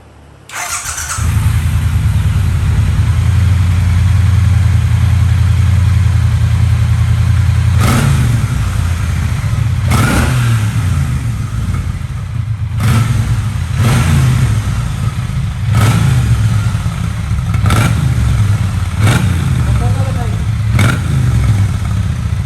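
A Triumph T120 motorcycle on its stock exhaust fires up, settles into a deep, steady idle rumble, then gets a series of sharp throttle blips that swell and fall back to idle, loud and close.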